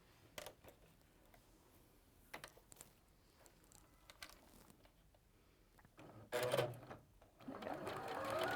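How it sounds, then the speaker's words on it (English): A domestic sewing machine stitches quilt fabric pieces together, short quiet bursts of clattering needle action early on, then louder, longer runs of steady whirring toward the end, close and alone. "I'm just going to sew these on either side"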